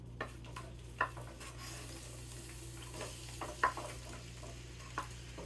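Squash fries in a pan for a breakfast frittata, a soft, steady sizzle broken by a few sharp clinks and scrapes of a utensil stirring against the pan, close and fairly quiet, with no talk.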